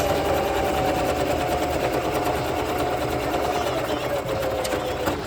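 A Singer sewing machine stitching a buttonhole without a buttonhole foot, running steadily as a close, continuous whir with a fast needle rhythm through the whole stretch.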